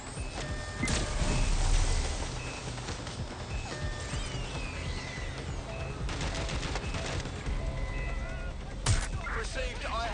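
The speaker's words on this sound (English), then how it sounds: "I'm taking shots fired!" Gunfire in Watch Dogs: Legion, a few sharp shots standing out from a dense, noisy game mix with sirens and voices, with a louder burst near the start and more cracks late on.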